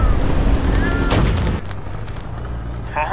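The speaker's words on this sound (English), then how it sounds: "I'm shooting with my MG." Tank machine gun firing in a combat video game, a loud rattling burst of gunfire that cuts off partway, leaving a quieter engine rumble and low game noise.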